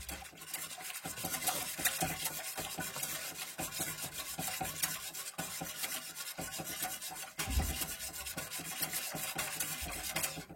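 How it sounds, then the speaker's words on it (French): Someone stirs food in a pan on the stove, a steady scraping and rubbing with faint sizzling underneath that runs without a break and picks up briefly toward the end. "Là, vous remuez un peu."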